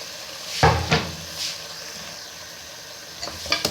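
Potatoes fry with minced meat (keema) in oil, a low sizzle broken by a few sharp clanks and scrapes of a spoon against the pan, close by.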